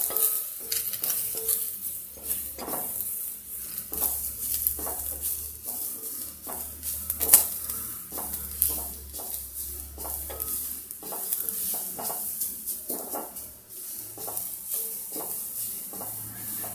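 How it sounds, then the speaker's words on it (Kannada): Ground dates being stirred and heated in a pan for khajur laddu, a steady scraping stir with soft sizzling and light utensil knocks against the pan, close and continuous with no talking. "ರುಬ್ಬಿರೋ ಖರ್ಜೂರ ಎಲ್ಲ ಹಾಕ್ಕೊಂಡು ಚೆನ್ನಾಗಿ ಬಿಸಿ ಮಾಡೋಣ."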